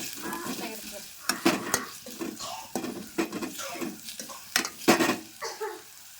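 Onions fry in a pan while a spatula stirs them in quick, irregular scraping strokes over a soft, close sizzle.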